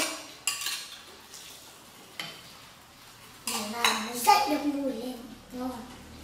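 Pot lid set onto a cooking pot of Vietnamese highland specialty hotpot, a few light metallic clinks and clatters of cookware close by, with brief talk around them.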